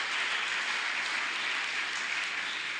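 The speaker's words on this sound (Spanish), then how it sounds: "Dense un aplauso, ustedes sí." Audience members at an apostolic leadership talk give themselves a round of applause, a dense, even wash of clapping throughout.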